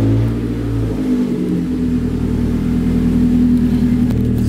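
A Scion tC with aftermarket headers, intake and a TRD exhaust with the resonator deleted revs up close by, its deep droning note climbing and then holding a steady raspy hum.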